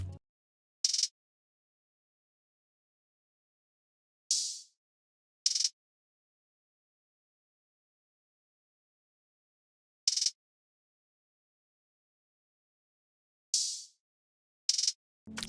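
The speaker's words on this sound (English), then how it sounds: "So the hi-hat roll and the open hi-hat sound like this." Short, bright hi-hat ticks and a slightly longer open hi-hat splash turn up in sparse clusters of one or two hits, separated by long stretches of silence, with no voices present.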